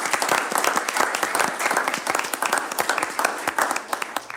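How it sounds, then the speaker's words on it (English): Steady applause from a small roomful of people at a workshop farewell for a departing colleague, dense clapping close by that holds at an even level throughout. "I just want to give her a round of applause"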